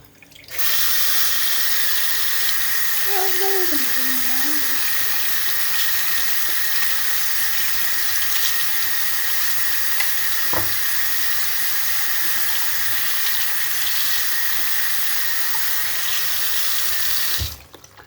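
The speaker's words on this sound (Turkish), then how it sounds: "Şimdi ellerimi yıkıyorum." Hands are washed under a kitchen tap running strongly and steadily for most of the time. The water starts and stops abruptly, with a faint squeak early on and no voices.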